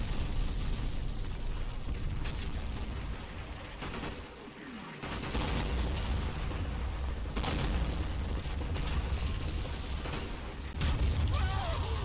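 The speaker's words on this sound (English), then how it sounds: "Mortar fire starts to fall on the sappers behind Firebase Taylor." Artillery and mortar fire in the Combat Mission war game at Monte Cassino, a dense, continuous barrage of booming blasts and crackling bursts, loud and sustained with brief dips and renewed impacts.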